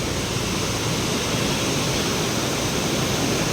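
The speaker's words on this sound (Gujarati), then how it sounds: "આજે આ તમે હરનાવ નદીનો વ્યૂ જોઈ શકો છો" A flooded Harnav river rushing at night, a loud, constant roar of fast-flowing water heard alone without voices.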